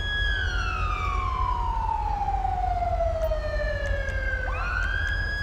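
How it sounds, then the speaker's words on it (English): A loud police car siren in Grand Theft Auto V sweeps steadily downward in pitch, then jumps back up into a new wail near the end over a constant low engine drone. "Turn off your damn siren."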